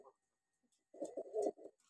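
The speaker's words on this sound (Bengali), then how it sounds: "কবুতরটা আসলে খুবই সুন্দর, বড় ডাকাডাকি করে।" A red-bordered Jalali pigeon gives a short run of throaty cooing calls after a brief pause, fairly close and clear, with no talk over it.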